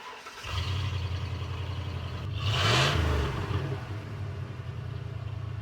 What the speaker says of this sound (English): But back to the exhaust, was actually upgraded to the Gibson Catback. The tone is not too loud.